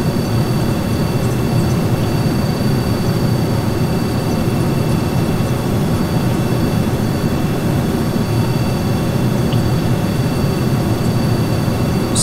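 In the Kerbal Space Program video game, a space shuttle's rocket engines roar through a launch. The thrust makes a loud, dense, unbroken rumble that stays steady throughout with no talk over it.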